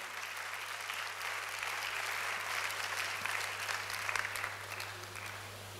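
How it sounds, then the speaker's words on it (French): A church congregation applauds during a Sunday worship service, with dense, steady applause filling the room throughout and a low electrical hum underneath. "Acclame le Seigneur"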